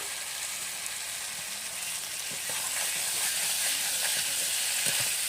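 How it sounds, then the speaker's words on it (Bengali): Cauliflower dropped into hot oil for a tilapia fish curry made without onion or garlic, a continuous hissing sizzle that grows louder and busier as the pieces fry. "এখন ফুলকপিটাও দিয়ে দিচ্ছি।"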